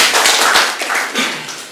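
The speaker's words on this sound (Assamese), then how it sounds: "মই বাইদেউৰ বাবে এটা হাত চাপৰি মাৰিবলৈ" Applause from an audience at a book event in a Sahitya Sabha hall, with a dense patter of many hands clapping steadily and fairly loudly across the whole short span.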